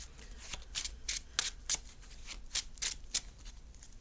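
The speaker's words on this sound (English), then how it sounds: "So we're gonna shuffle." A Yu-Gi-Oh card deck is shuffled by hand in quick riffling bursts, about a dozen soft, close, crisp flicks in an uneven rhythm, with no talking.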